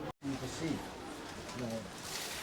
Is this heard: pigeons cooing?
yes